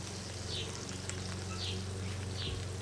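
Lemon pepper chicken sizzles on a Weber kettle grill as its fat renders, a soft and steady crackling hiss heard fairly faintly, with no voices over it.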